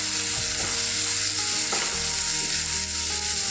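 Chopped onion, tomato and about a dozen garlic cloves fry in a pan with a steady, loud sizzle while a spatula stirs them, its scrapes and soft knocks repeating through the crackle.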